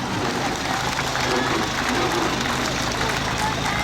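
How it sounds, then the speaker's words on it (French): An audience applauds at the 2023 Dourdan vintage car festival, a dense, steady wash of clapping from a large outdoor crowd that holds level for several seconds. "Allez, on les applaudit."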